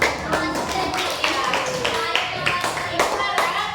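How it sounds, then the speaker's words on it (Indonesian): Classroom applause for a student group, a burst of hand claps from several people, loud and close, with irregular overlapping claps continuing for a few seconds. "berikan aplaus dulu untuk kelompok 2"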